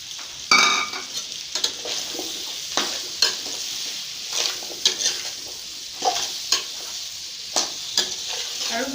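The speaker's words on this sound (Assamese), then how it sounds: "আৰু ভালকৈ লৰাই দিছোঁ," Mashed boiled potatoes being stirred as they fry in a pan for an Assamese jackfruit curry, with a steady sizzle under repeated scraping strokes of the spoon. The sound stays close, with no talking.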